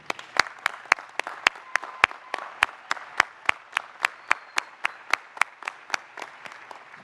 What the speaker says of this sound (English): I really want to invite everyone here today to give you a round of applause